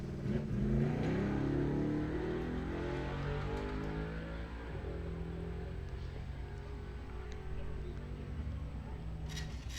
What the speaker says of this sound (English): Sportsman cars pulling to the starting line right now.